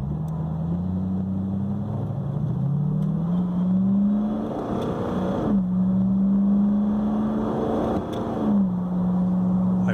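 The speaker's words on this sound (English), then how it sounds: "this thing sounds more like a high-speed four-cylinder sports car engine than it does an American V8 under these conditions" A V8 engine turning about 2,800 RPM through a TH2004R overdrive automatic swapped in for a TH350 gives a steady, loud, close drone whose pitch dips and climbs a few times, with no talking.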